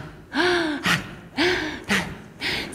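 Deep inhaled breaths during a group ritual chant session, repeated three times in a steady rhythm, each a loud, close, breathy intake with a voiced, gasping edge.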